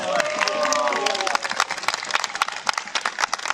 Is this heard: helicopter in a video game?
no